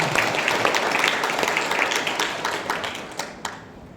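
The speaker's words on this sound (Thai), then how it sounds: "ปรบมือให้ท่านอาจารย์" Applause in a Thai university lecture hall welcoming a lecturer, an assistant to the president of Surindra Rajabhat University: dense, steady clapping from an audience that tapers off with a few scattered final claps.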